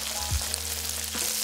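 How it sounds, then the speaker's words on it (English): Pork sizzles while being stir-fried in a wok with dried shrimp, a close, steady frying hiss broken by brief scraping stirs, with no talking. "After stir frying the pork for 30 to 40 seconds"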